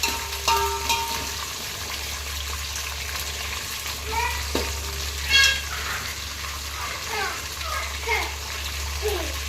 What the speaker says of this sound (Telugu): ఇది కొంచెం పచ్చి స్మెల్ పోయేదాకా ఫ్రై అయితే బాగుంటుందని